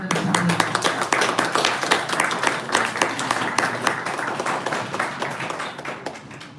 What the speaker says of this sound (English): Please give her a clap.